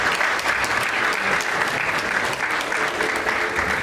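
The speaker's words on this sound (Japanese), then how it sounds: "どうぞ皆様拍手をお送りください" Sustained applause from the audience at a HONMA golf new team unveiling event, a thick, even roar of many clapping hands that stays loud and steady throughout with no voices over it.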